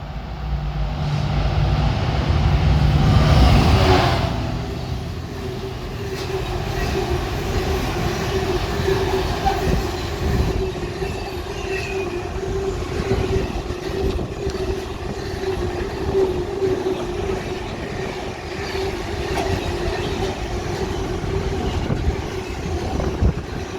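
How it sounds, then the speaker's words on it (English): A freight train hauled by a Class 66 locomotive passes on the West Coast Main Line at Bletchley, with a loud low rumble and a steady drone of wagons rolling by close at hand. A louder surge comes early in the pass. "And approaching now, we're going to have a freight train."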